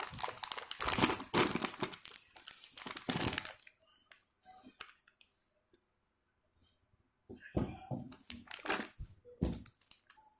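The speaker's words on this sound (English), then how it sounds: "Let's tear it." A Haldiram's nut cracker snack packet is torn open with loud, close crinkling and crunching of plastic in two bursts, separated by a quiet pause with a few small rustles.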